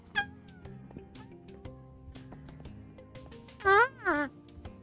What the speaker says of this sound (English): Hello cat, I need a name for that cat.